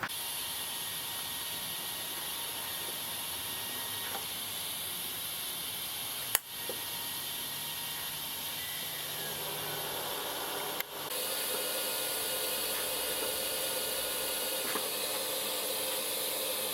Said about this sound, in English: just getting her all welded up now